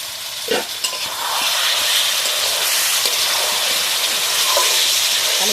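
Potato curry (aloo dum) fries in a covered pan, a steady broad sizzle holding through with a few stirring scrapes near the start, close and fairly loud, with no voices.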